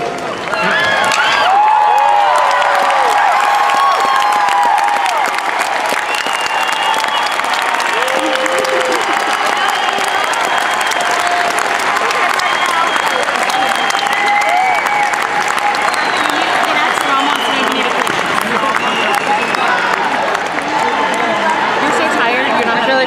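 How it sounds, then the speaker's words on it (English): A large audience at a graduation ceremony claps loudly and continuously, mixed with cheers and whoops, sustained at full strength for over twenty seconds with crowd chatter underneath. "give a big round of applause to your family and friends who are sharing this special night with you"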